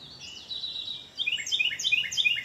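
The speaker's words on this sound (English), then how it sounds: "This invitation of birdsong" Bright, high chirping birdsong in quick repeated phrases, clear and fairly close, with a faint steady background hiss and no talking.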